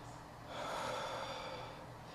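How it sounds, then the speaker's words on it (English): Deep, forceful breaths, an audible swelling inhale-exhale with a snort-like rush, from a person recovering after eating a Trinidad Scorpion pepper; heard up close and fairly quiet, with no talking. "I have to breathe really deep because deep breathing helps my stomach"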